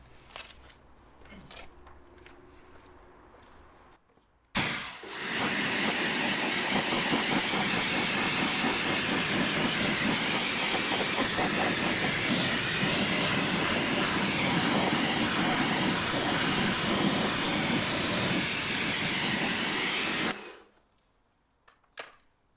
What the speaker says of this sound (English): let's pressure washer this off, and yeah, see how well it's cleaned